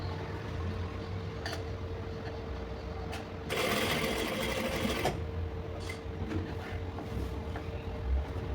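A sewing machine stitches patchwork fabric with a steady close mechanical whir and hum, running continuously with a louder, brighter burst of fast stitching in the middle.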